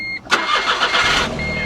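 A Smart car engine cranks and fires up abruptly, bursting loud after a brief mechanical click, then settling into a rough, close idle for a moment.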